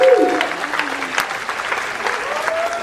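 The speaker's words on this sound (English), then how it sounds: "let's give everybody a round of applause for the next group" Audience applause for a student group at a high school humanities symposium, a steady wash of many hands clapping close by that fills the whole stretch, with a brief tonal sweep at the start.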